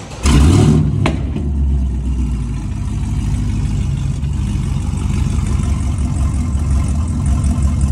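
A cammed V6 car engine revs sharply once up close, then settles into a loud, lumpy idle that holds steady for several seconds.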